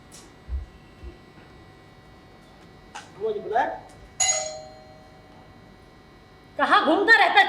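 A doorbell chime rings once in a Hindi drama scene, a clear ding with a lingering tone, preceded and followed by people talking nearby.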